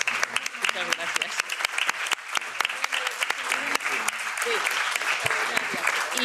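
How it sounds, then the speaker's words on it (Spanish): An audience applauds after a conference talk on the amnesty, steady sustained clapping from many hands filling the room, with some speech mixed in underneath. "un gran aplauso para ti"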